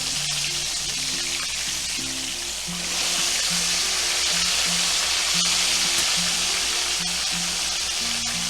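Pork chops fry in a pan with a loud, steady sizzle that swells partway through, while a low melodic music bed plays underneath.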